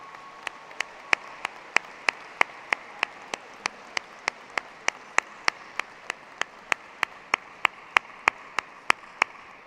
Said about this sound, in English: Please join me in a round of applause to thank them for the many gifts that they have given you.